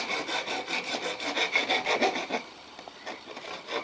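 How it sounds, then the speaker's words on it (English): A sewer pipe edge is beveled by hand, giving quick rhythmic rasping strokes, close and moderately quiet, about a dozen scrapes that fade into lighter, sparser rubbing. "And I'm going to bevel the edges inside and out."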